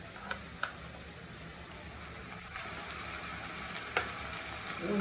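Ginger-garlic paste frying in hot oil for a wedding-style vegetable dish, a steady close sizzle with a few sharp spatters and crackles.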